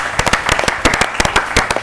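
An audience at a school quiz event claps for a team: a brief burst of sharp, irregular handclaps, loud and close, with no speech.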